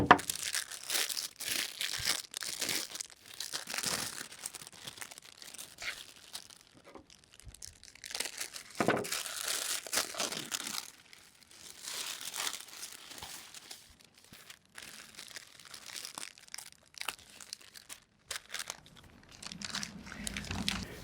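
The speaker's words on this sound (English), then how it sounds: "the first thing you need to do is get them out of the cellophane" Cut flowers being pulled free of crinkly cellophane wrapping, a close, continuous rustle and crackle with sharp tearing bursts, no voices.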